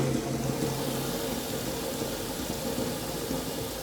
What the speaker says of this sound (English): fill the tank with your supply of water.